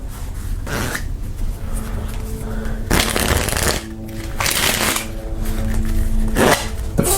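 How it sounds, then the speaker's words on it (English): A deck of playing cards is riffle shuffled in the hands as a false shuffle, giving several bursts of fast fluttering snaps with soft handling and squaring sounds in between, close and fairly quiet. "False in the hands riffle shuffle."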